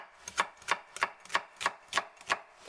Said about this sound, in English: It's really hard to slice little pieces.